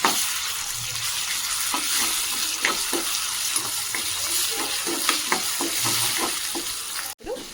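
Potatoes fry in a pan for masala aloo with a continuous soft sizzle, while a spoon stirs them in repeated scraping strokes; a sharp knock sounds near the end.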